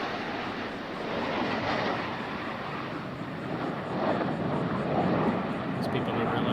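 Blue Angels jets fly past at an air show practice with landing gear, flaps and tail hook lowered, producing a loud, continuous broadband jet roar that swells slightly as the aircraft passes overhead.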